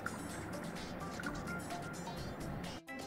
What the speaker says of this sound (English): Fill the empty container with the water.